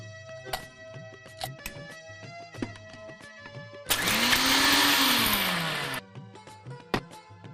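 A mixer grinder whirs loudly for about two seconds, grinding with a rising and falling pitch, surrounded by clicks and handling noises before and after.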